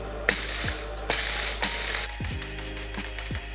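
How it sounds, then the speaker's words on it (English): Coffee beans are ground to a medium coarse size in a grinder, making loud, steady ratcheting and grinding bursts with brief pauses and a few squeaky mechanical clicks. "I wanna have this medium coarse, so I'm just gonna grind this until I believe it's medium coarse."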